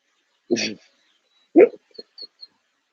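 A dog gives a short bark and then a few soft whimpers and yips at a home yoga session, close by and moderately loud, with gaps of quiet between the sounds.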